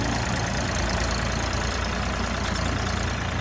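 A small 24-horsepower tractor engine idles steadily with a constant low chugging rumble, close and loud, with no voices.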